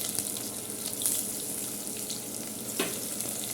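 Onion frying in oil in a pan for rice bath produces a continuous hissing sizzle, with a brief scrape or clink partway through.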